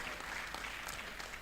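Faint, distant applause from a plenary session audience at a tech and legal practice event in Delta State, a brief wash of scattered clapping that never rises to a clear peak.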